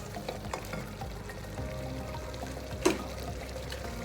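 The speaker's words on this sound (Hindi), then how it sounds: "अभी हम इसको ऑयल डाल के फ्राई कर लेते हैं।" Oil poured into a pot of beef curry and left to fry, a steady low sizzle and bubbling with faint trickling and one brief clink partway through.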